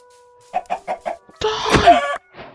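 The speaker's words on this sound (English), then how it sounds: "Is that a chicken?" A Minecraft chicken clucks in four quick, evenly spaced bursts, then gives a longer, louder squawk that fades into a brief soft tail.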